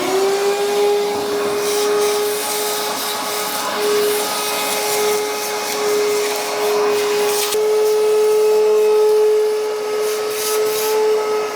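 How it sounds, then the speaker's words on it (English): A vacuum cleaner sucks drywall dust from floor cracks during floor removal in a fixer-upper house, giving a loud steady whine with a strong constant tone and rougher bursts of suction, alone without speech. "Now we're going to vacuum and get all these piles of dust out from under the cracks of the drywall"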